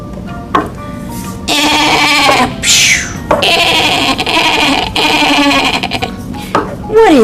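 A sheep bleats loudly several times in a row, each wavering call close and clear, with short pauses between them, amid a children's farm animal song setting.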